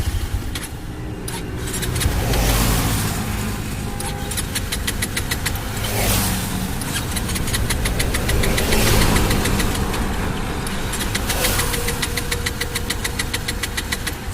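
A Bajaj Pulsar 220F BS6 motorcycle engine runs steadily nearby with a continuous rumble and rapid rhythmic ticking throughout, swelling slightly a few times as if revved lightly, with no talking.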